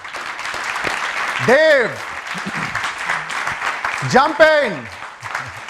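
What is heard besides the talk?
audience applause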